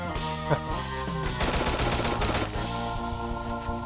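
Rapid automatic gunfire from a teammate in the mobile battle-royale game Free Fire, dense bursts of shots rattling close and loud, joined by a second weapon mid-burst over a steady game soundtrack, with no talking.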